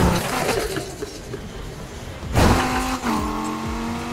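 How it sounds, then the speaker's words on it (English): Revving car engine in the Need For Speed Heat racing game, climbing in pitch and then dropping sharply at a gear shift midway, after which it picks up again in a steady, loud drone with no talking. "Now the shifts on this car sound very good"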